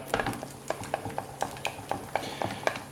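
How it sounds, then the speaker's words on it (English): A utensil stirs raw egg yolk quickly into hot melted chocolate and butter for a dark chocolate mousse, making a steady run of light clinks and scrapes against the bowl, close up and with no talking. "I'm gonna add the egg yolk in one way"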